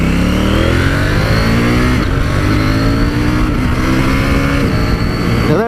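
A KTM 790 Duke motorcycle accelerates hard, loud and close, its engine note climbing through rising revs. Brief dips mark several quick-shifter upshifts, and one gear change stumbles into a false neutral. No one speaks.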